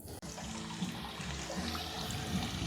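Water from a solar-powered pump with panels and batteries trickles into a cattle trough, a soft continuous dribble at low level after a brief click at the start.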